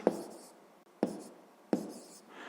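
Pen or chalk writing a math double inequality, three sharp taps that each trail into short scratchy strokes, close and fairly quiet, with no voice.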